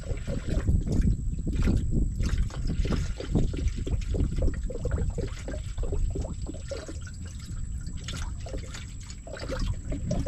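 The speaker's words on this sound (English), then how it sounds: "this is my 50-50 mixture, and I'm just gonna pour it right in" Coolant, a 50-50 mixture, poured into the radiator of an Isuzu NPR truck, a steady close liquid gurgle and trickle running continuously without speech.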